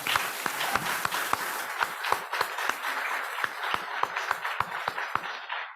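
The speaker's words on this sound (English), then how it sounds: "So I just want to give him a round of applause" Round of applause from an audience at an anniversary celebration event, steady dense clapping with a few sharp nearby claps standing out, sustained through and tapering slightly at the end.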